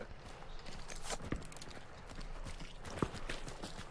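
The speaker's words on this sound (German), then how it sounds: "Oh, Vorsicht, Pferd." Rapid clip-clop of horse hooves trotting on hard ground in the video game Hunt: Showdown, steady and fairly close, with scattered louder knocks and a busy background.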